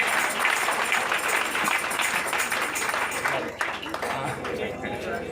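A church congregation claps and cheers during an evening worship service, a sustained wash of clapping with voices mixed in that thins out slightly toward the end.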